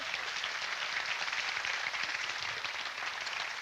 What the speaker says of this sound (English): Give Courtney a round of applause, okay?